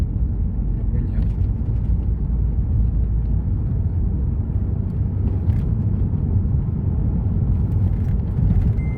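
Toyota Prius Alpha driving after a 2ZR-FXE engine swap, a steady low road rumble and interior drone filling the cabin throughout, with people talking over it.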